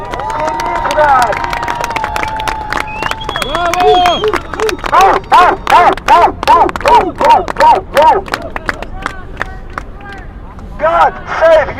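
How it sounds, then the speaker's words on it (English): A protest crowd against the Russian invasion of Ukraine in New York City cheers and applauds for the Ukrainian president, a loud dense roar that breaks into steady rhythmic bursts of crowd voices and claps. "Guys, let's give applause to our president."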